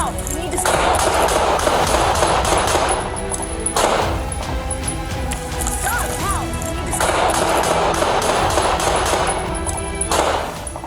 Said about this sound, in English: 9 gunshots shattered the night in a matter of seconds